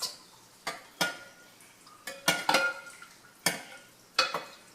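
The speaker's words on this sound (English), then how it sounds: "I'm just going to go ahead and fold my milk into the soup so that it's mixed." A spoon stirs milk into soup in a pot, making a series of sharp scraping knocks against the pot at irregular intervals, about seven in all, close and clear with no talk.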